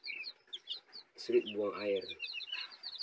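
Broiler chickens cluck and chirp in a series of short, soft calls, while someone speaks briefly over them partway through.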